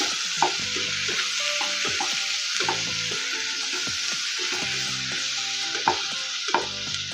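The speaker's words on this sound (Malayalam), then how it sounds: "ലേശം കൂടി വെളിച്ചെണ്ണ ഒഴിച്ചു കൊടുക്കുക. പിന്നെ അതിലേക്ക് 2 തക്കാളി, അതൊന്ന് നല്ലോണം ഇളക്കി കൊടുക്കുക." Two tomatoes fry in coconut oil for a chicken curry. A bright, constant sizzle is broken by soft rhythmic stirring taps and scrapes, heard close with no voices.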